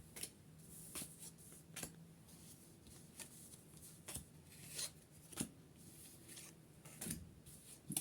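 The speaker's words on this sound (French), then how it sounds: "je vais aller piger 12 cartes" Santa Muerte tarot cards shuffled and drawn one by one, faint close papery flicks and snaps at an irregular rhythm in a quiet room.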